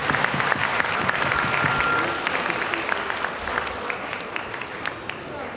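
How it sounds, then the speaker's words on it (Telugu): An audience at a Telugu Manabadi children's event in Plano, Dallas, Texas, applauds in a full, loud burst of many hands that holds steady, then thins and softens toward the end. "వారందరికీ ధన్యవాదాలు ధన్యవాదాలు చెప్తూ చప్పట్లు కొట్టండి."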